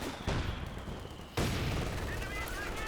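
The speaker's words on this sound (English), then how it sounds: "He's going to be suppressed by an MG over here" Machine gun fire in Company of Heroes 2 comes as two dense, sustained bursts of rapid gunfire with a booming onset, loud and close, heard alone.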